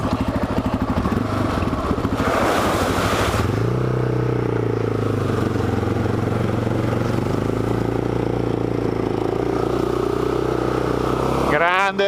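A Yamaha Raptor quad engine revs hard on a jungle trail, a loud continuous motor roar that climbs and shifts pitch early on, then holds a steady throttle drone with some clatter close by.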